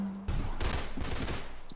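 A quick burst of rapid gunfire in the Roblox shooter game Arsenal, a short loud fusillade of shots close up after a brief low tone, with no speech.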